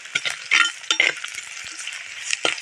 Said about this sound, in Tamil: வெங்காயம் போட்டு வதக்கலாம். சரி, வெங்காயம் நல்லா வதக்கலாங்க.